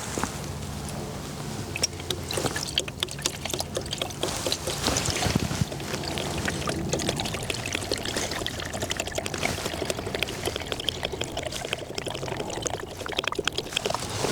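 Coolant being poured through a funnel into the cooling system of a Renault Laguna 3 Phase 1 1.5 dCi 110 hp, a steady close liquid trickle and gurgle continuing throughout without speech.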